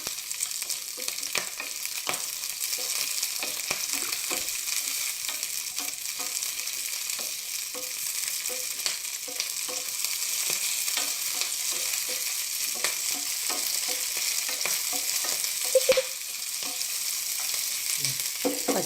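Green chillies fry in a pan for chutney, giving off a loud, continuous sizzle with scattered crackles and pops throughout and no talking.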